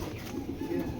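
Racing pigeons coo softly in a loft, a low murmuring call close by over a faint steady background, lasting about a second.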